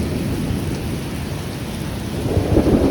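Heavy thunderstorm in Middleburg, with steady loud rain and deep rolling thunder blending into a continuous dense roar, no voices.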